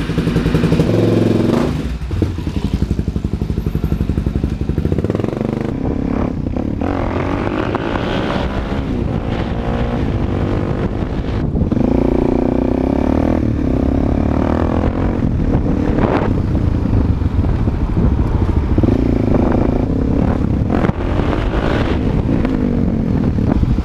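A 2014 Suzuki DR-Z400SM supermoto motorcycle being ridden, its single-cylinder engine loud and close, rising and falling through gear changes with heavy wind buffeting the microphone.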